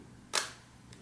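A Kiev 4a rangefinder camera's shutter fires once at 1/50 second, a single crisp mechanical click up close followed by a fainter second tick a moment later, in an otherwise quiet room.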